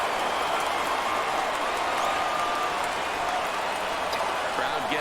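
A baseball stadium crowd at a Philadelphia Phillies game rises and cheers for a full 3-2 count, a loud, sustained roar with scattered claps and whistles, while a broadcaster talks over it.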